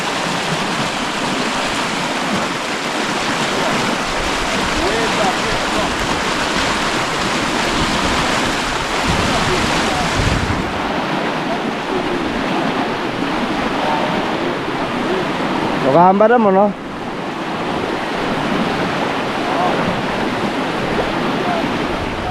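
Flooded river in Kenya rushing in a loud, continuous roar of churning water, close by and steady the whole way through, with a brief voice near the end.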